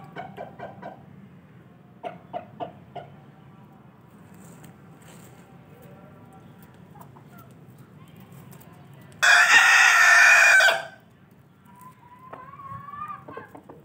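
A rooster crows once, loud and close, after quieter clucking and faint background sounds; another crow begins faintly near the end.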